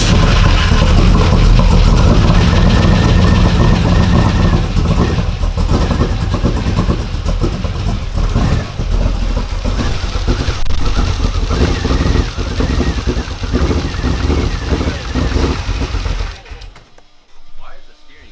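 A Ford F150 prerunner truck engine runs and revs loudly nearby, a dense rough roar that holds steady before dying away near the end, with people talking over it.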